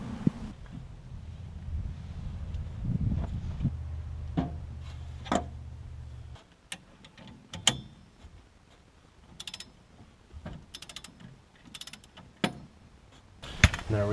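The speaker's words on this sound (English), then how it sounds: "now we're ready to get a socket and start turning this and pressing it up and out" Socket wrench turning a ball joint press on a Jeep Cherokee XJ axle, heard as a steady low mechanical grinding for several seconds, then scattered sharp clicks and metallic ratcheting knocks with quieter gaps between them.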